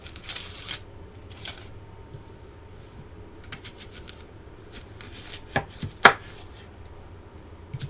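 A knife chopping red onion on a cutting board, a few scattered quick cuts and taps separated by quiet pauses, close and fairly soft.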